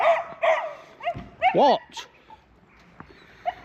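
A dog at a caravan and motorhome club site gives a few short barks and a whimpering, yipping whine up close, with a person speaking briefly between the sounds.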